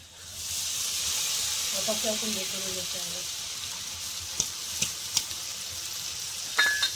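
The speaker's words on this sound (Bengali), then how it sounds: "এবার সব কিছুর সঙ্গে মেথি শাকটা ভালো করে ভাজবো" Fenugreek greens fry in a pan with spices and slit green chillies, giving a steady close sizzle and hiss throughout, with a few clinks of stirring toward the end and a brief voice murmuring under it.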